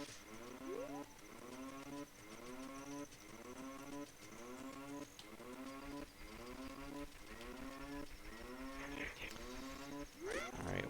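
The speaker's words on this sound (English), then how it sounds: "Synnii's low health sound is the cow mooing." Repeated low cow moos from the Ocarina of Time randomizer's low health alarm, sounding in a steady rhythm about once per second, loud and continuous throughout with game sounds layered over it.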